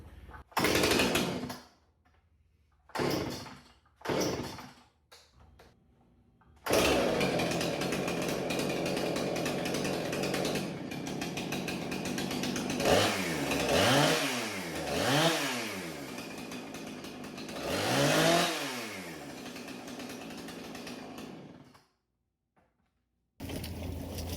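Husqvarna chainsaw after a carburetor fix: a few short pull-start bursts with gaps, then the two-stroke engine catches and runs loud and close, revving up and down several times before cutting off.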